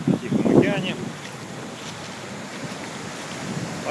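Pacific Ocean surf washing in at a beach, a steady broad roar with wind buffeting the microphone; a louder burst near the start, then a continuous even wash, with a faint voice in the background.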